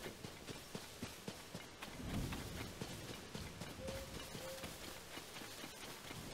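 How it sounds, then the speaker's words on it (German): Rain falling during a thunderstorm in the video game The Legend of Zelda: Tears of the Kingdom, a steady patter with soft repeated taps and a brief low rumble, over faint game tones. "Jetzt fängt es auch noch an zu gewittern."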